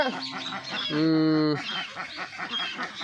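Ducks on a farm holding several hundred birds give a loud, drawn-out nasal honk up close, surrounded by chattering quacks from the flock and a person talking.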